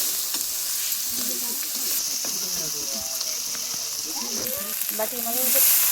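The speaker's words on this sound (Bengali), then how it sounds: "জিরে গুঁড়ো ভালো করে নেড়ে নেবো" Cumin powder and chopped tomato stirred in a frying pan for a bean and potato curry, with a steady sizzle under scraping spoon strokes and a faint voice in the background.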